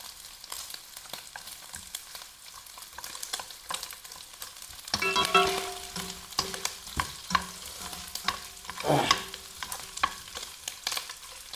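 Pork belly sizzles and crackles in hot fat in a pan as it is stir-fried, a steady, fairly faint hiss broken by stirring scrapes, with no talking.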